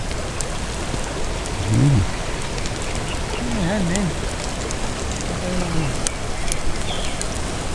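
Steady rain patters across the whole stretch, a broad hiss with scattered drops, while a voice speaks briefly over it.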